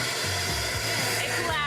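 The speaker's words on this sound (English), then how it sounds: "We'll end up turning on a vacuum." A vacuum cleaner whirs loudly up close, a constant high-pitched motor whine with a rough, shifting rumble underneath.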